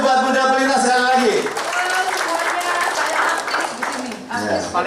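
Loud clapping and cheering from a crowd at an organization's board inauguration ceremony in Central Java breaks out as a voice with a musical, sung quality fades, continuing energetically to the end.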